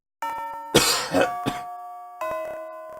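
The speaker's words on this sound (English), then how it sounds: "the bell signaling the end of class sounds" A chime-like school bell from the Fate/Extra video game marks the end of class, its sustained tones ringing clearly, broken by a noisy burst in the middle before the tone returns.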